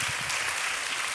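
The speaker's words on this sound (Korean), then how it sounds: "귀한 강의 해주신 우리 장로님과 권사님께 다시 한 번 더 큰 박수 부탁드립니다" A church congregation applauds after a lecture by an elder and a deaconess, with dense, steady clapping filling the room throughout.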